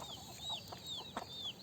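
Chickens cluck on a farm in a short, close burst of several soft clucks and calls over a quiet outdoor background, with no people speaking.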